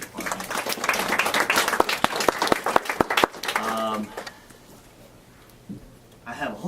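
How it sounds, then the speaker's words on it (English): Audience applause for university department faculty at a hip hop activism lecture, loud dense clapping for about three seconds with a few sharp claps, then fading out as a voice speaks over it. "I just would like to also give a round of applause for all the faculty in the department."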